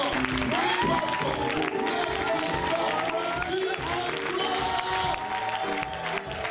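A church congregation claps and cheers continuously to welcome a pastor, giving a dense, loud wash of applause with a voice audible over it throughout.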